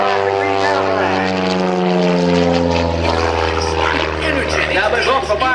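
Loud propeller biplane flying aerobatics at an airshow, a steady droning engine with strong harmonic tones that shift in pitch as it rolls and snaps through a 45-degree down line, with an announcer talking over it.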